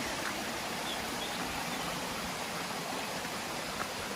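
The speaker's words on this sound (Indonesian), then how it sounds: "Semakin dekat mendekati Curug Silangit akan semakin jelas mendengar suara deburan aliran airnya." Curug Silangit, a hidden waterfall in the Menoreh hills, sends out a steady broadband rush of flowing stream water, even and continuous at moderate distance with no other sounds.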